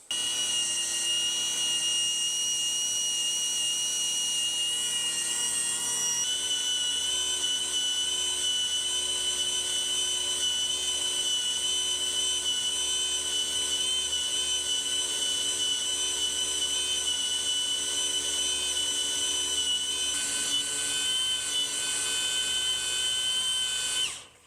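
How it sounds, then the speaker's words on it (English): A NASCAR Toyota Tundra race truck engine is spun over to prime it, giving a steady, loud mechanical whine with bright sustained tones that runs unbroken for the whole stretch with no talking. "So let's go ahead and spin it over and prime it again."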